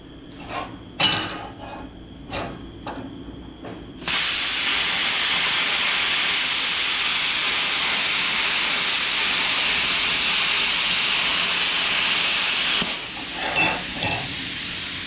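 Bestarc BTC500DP plasma cutter slicing through 1/4 inch steel, a loud steady hissing roar lasting about nine seconds, preceded by a few sharp clicks and short bursts, then tapering off near the end.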